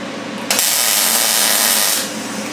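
Arc welding on scrap metal for a pencil holder gives one loud, steady crackling hiss lasting about a second and a half, close up, with no talking.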